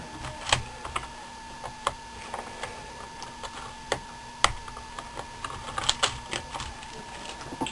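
An Asus W3J laptop keyboard is unclipped and lifted out, giving a string of light plastic clicks and taps at irregular intervals, close and fairly crisp over a faint steady hum.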